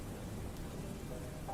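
Steady, soft rain falls outside at night, a faint continuous hiss with no voices or other distinct sounds.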